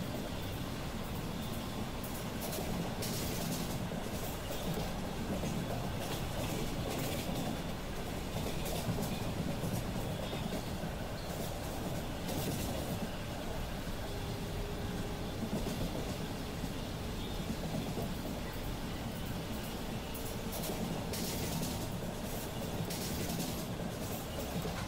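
Mumbai local train on the Virar–Churchgate fast line running steadily on rails, a continuous rumbling roar with faint wheel clatter throughout, heard from on board with no talk.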